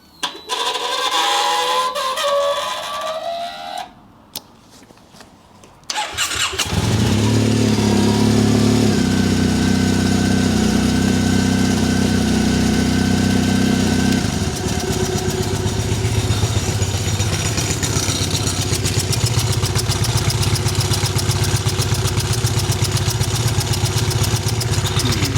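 A Triumph Bonneville motorcycle engine cranks, catches and fires up, then settles into a loud, steady idle with a brief rev partway through.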